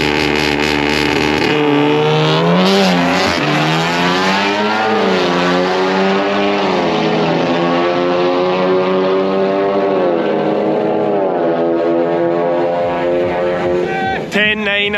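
A German drag car accelerates hard at Crail Raceway, its engine note climbing and dropping through several gear changes in a loud, sustained roar that fades slightly toward the end.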